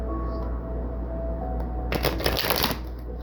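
Tarot cards shuffled briefly, a quick burst of riffling flutter up close after a quiet stretch with low steady hum.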